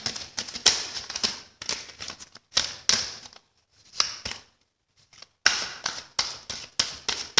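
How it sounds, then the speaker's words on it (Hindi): Cards drawn from a psychic tarot deck give crisp, close flicking and rustling in quick clusters, separated by short silent pauses. "साइकिक टैरोट से भी हम 2 कार्ड्स ले लेते हैं गाइस।"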